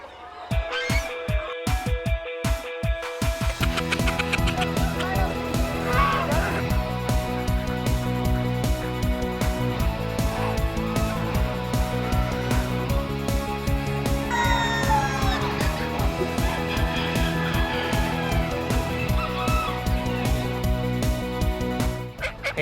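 Call ducks honking loudly back and forth among other heritage poultry, a dense run of repeated loud quacks layered over each other, close by and continuous.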